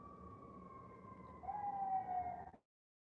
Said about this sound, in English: Should I wait for the siren to pass?